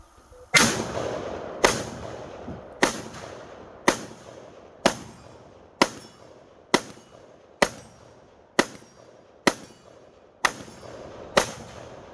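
Dry, unlubricated AR-15 rifle action cycled repeatedly: about eleven sharp metallic clacks at a steady pace roughly once a second, loud and close, each with a short ringing decay, no talking.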